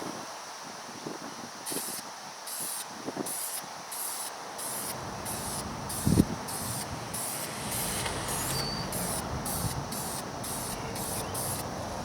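Aerosol primer sprayed onto a dinged car panel during paint repair, a steady close hiss in repeated short bursts after a quieter start, with a brief knock midway; no talk.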